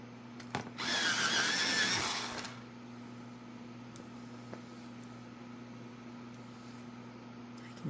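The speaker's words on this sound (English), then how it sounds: "I am going to now sharpen this before I switch." A Holbein colored pencil gets sharpened in a brief electric sharpener burst of about one and a half seconds, a bright grinding whir that stops abruptly and leaves quiet room hum.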